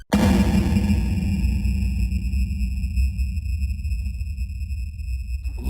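A sustained note from an E-mu Emax sampler rings out with a bright, high-pitched ringing from Nyquist frequency distortion layered over a heavy low end, slowly fading over several seconds.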